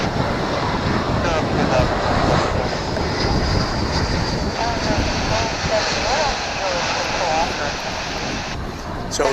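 A plane inbound from Tucson roars in at DFW airport, its jet engine a loud, steady broadband rush close by, mixed with gusting wind buffeting the microphone throughout.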